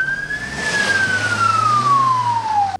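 Ambulance siren on a vehicle speeding to an emergency call in a densely populated city district, one loud, steady wailing tone that slowly falls in pitch over traffic rumble.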